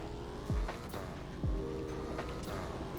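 A car in a Roblox driving game accelerating, its engine note climbing and dropping sharply through quick gear shifts over a steady rumble, fairly faint.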